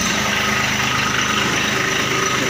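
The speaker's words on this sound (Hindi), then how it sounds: "छोटे से ट्रैक्टर से। कार स्टार्ट कर।" A small farm tractor's engine idles steadily and close by, a continuous low, throbbing rumble with a rattling mechanical hum running through it and no break.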